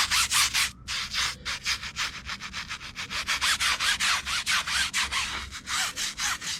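A toothbrush scrubs mildew off a Jayco retractable blind in fast back-and-forth strokes, a close, rhythmic rasping that pauses briefly once and then carries on steadily.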